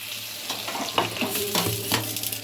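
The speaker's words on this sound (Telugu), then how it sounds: "పోపు, కరివేపాకు వేసి బాగా వేయించుకొని ఇలా ఉన్న మన పప్పుచారులోకి అలా తాలింపు పెడదాం" Curry leaves and seasoning tempering sizzles loudly for a dal made with drumstick and raw mango, a steady hiss with a few sharper bursts as it is stirred in, close and without talk.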